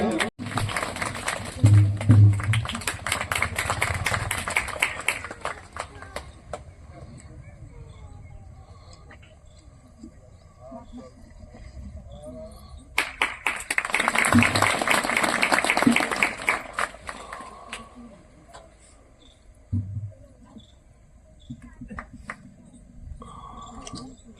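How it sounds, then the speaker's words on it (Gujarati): A seated crowd at a village gaushala groundbreaking ceremony in Gir, Gujarat, claps in two rounds of welcome: a burst at the start and another in the middle, with a speaker's voice over a PA system between and after them. "આપણે આપણી જગ્યાએ બેઠા બેઠા તાળીઓના નાદથી આ સ્વાગત સન્માનને વધાવશું"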